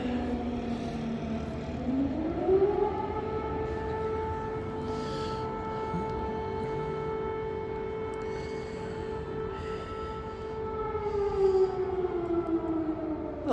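An air raid siren wails over Kyiv, a steady droning tone that rises in pitch, holds for a long stretch, then slowly falls, sounding distant and mournful with faint background noise and no speech.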